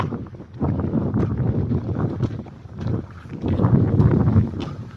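Gusty wind on a sunny hilltop hiking trail, a loud low roar buffeting the microphone in two long surges with a lull between them.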